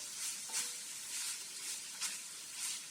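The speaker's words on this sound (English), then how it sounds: "I'm going to add my meat back into the pot, okay? And I'm going to stir it" Meat for a pie filling stirred in a pot, heard as a soft steady sizzle with rhythmic spoon scrapes recurring about every half second, close but fairly quiet.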